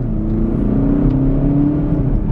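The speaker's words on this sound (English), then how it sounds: "This car is hella slow." A car drives with a steady engine drone and whir heard from inside, loud and close, pulling along under light acceleration.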